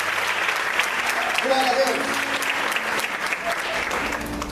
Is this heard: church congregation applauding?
yes